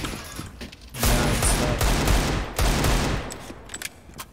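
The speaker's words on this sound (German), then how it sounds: "Ich glaube, zwei Schüsse sein." Rapid bursts of gunfire in a shooter video game, loud and dense from about one second on, with two sustained volleys separated by a brief dip, then tapering into scattered fainter shots.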